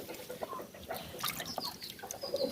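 Hens and a small young rooster on a farm give soft, scattered clucks and short calls, fairly quiet and close, in an irregular pattern against faint outdoor background noise.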